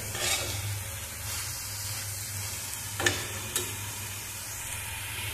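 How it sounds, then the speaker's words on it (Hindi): Saag greens with potato fry and get stirred in a pan over a high flame, giving a soft, steady sizzle with a couple of brief scraping stirs and a low background hum. "अब फ्लेम को हम हाई कर लेंगे और इसकी अच्छे से भुनाई करेंगे।"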